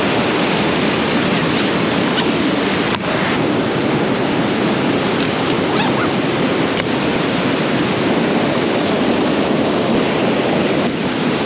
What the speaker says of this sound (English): Starting to think this might be a waterfall that I've freaking been to before